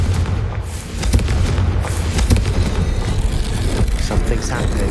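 A Confringo blasting spell in the Hogwarts Legacy video game sets off a dense, sustained rumble of booming blasts with sharp cracks at about 1 and 2.3 seconds, loud and continuous throughout.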